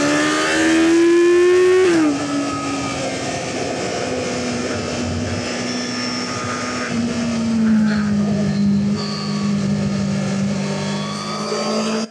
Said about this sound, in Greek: θα ακολουθήσουν περισσότερα πλάνα από την οδήγηση της μηχανής, χωρίς μουσική, μόνο με τον ήχο των κινητήρων